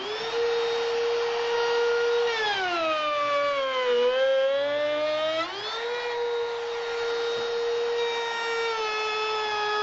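A router spins steadily as it cuts a dado across a wooden board, a loud constant whine whose pitch dips under load midway and then recovers, with no voices.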